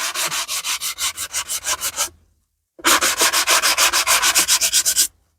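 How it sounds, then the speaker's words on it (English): Sanding across an embossed card panel gives quick, rhythmic scratchy strokes, about a dozen in a run, then a short pause, then another even run of close, bright rasping. "I did start sanding this one"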